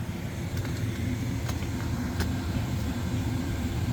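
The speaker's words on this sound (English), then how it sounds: "you're probably just hearing a bunch of fan noise" Air-conditioning fan noise inside a Tesla Model Y cabin, a steady, even broadband whoosh held at constant level throughout, with no talking.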